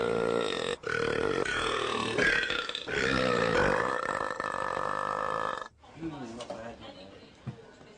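An extremely loud human belch from a record-holding burper, a long, rumbling, ear-shattering eructation lasting several seconds, followed by a shorter, rougher burp, close and dominant.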